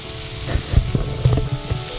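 Onions sautéing in a pan with slit green chillies, garlic paste, ginger paste and curry leaves for an egg kurma. A soft, steady sizzle runs throughout, broken by a few low knocks and stirring bumps, with no talking.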